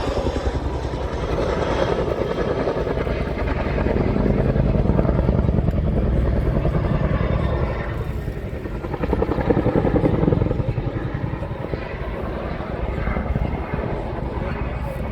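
A Chinook helicopter at the RIAT air show gives a loud, continuous rotor and engine roar, sustained throughout with slight swells, with an announcer's voice talking over it.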